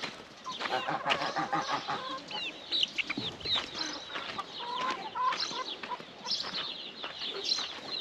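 Atak chickens cluck and call inside a coop, a busy overlapping chorus of clucks and squawks from several birds at close range that carries on without a break.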